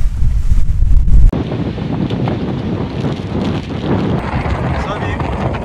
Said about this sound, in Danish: Så er vi inde i blæsen.